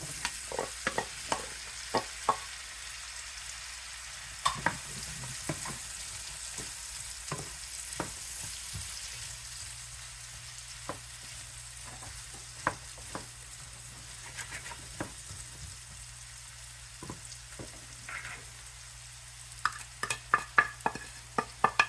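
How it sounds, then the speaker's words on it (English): Apples sizzling in a frying pan as they are stirred with melted ingredients, a steady soft frying hiss with scattered scraping taps and clicks from the spoon throughout, no voices. "as we're stirring the apples in the frying pan"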